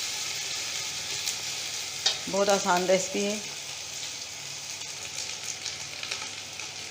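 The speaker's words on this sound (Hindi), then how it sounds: "ये अदरक भी अच्छी तरीके से फ्राई हो चुकी है।" Ginger fries in hot oil for tahari with a steady close sizzle that hisses on throughout, and someone briefly speaks over it.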